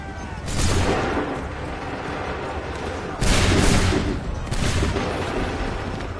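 Massed musket volleys from soldiers in Assassin's Creed 3, heavy booming blasts rolling into a dense roar with a second sharp volley midway, loud and close over continuous battlefield noise.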